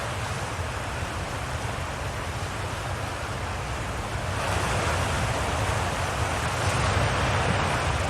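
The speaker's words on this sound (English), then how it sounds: "You can see the regular sprays of water that spurt up." A geyser on Timber Hearth in the game Outer Wilds sends up a steady, broad rushing spray of water that swells slightly louder partway through and keeps going without pause.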